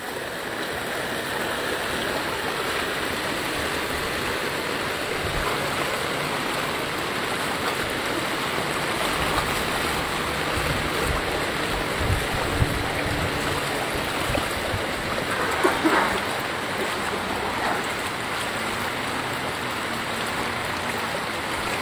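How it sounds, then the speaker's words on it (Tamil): Floodwater from heavy rain rushes steadily across a submerged main road, a continuous broadband roar of flowing water with no voices. "தொடர்ந்தும் கனமழையும் பெய்வதன் காரணமாக ஏறாவூர் பிரதான வீதியும் தற்போது நீரில் மூழ்கியிருப்பதை அவதானிக்க முடிகின்றது."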